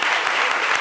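Audience applause in a French lunchtime TV studio show, dense sustained clapping filling the room at steady loudness, no voices over it.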